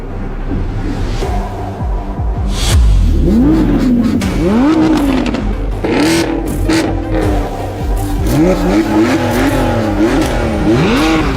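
A naturally aspirated V10 car screams hard through its gears in a drag race, loud rising engine wails broken by repeated shifts, close and dominant over a rough rumble.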